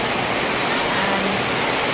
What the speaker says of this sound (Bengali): প্রচণ্ড জোরে বৃষ্টি হচ্ছে বাইরে।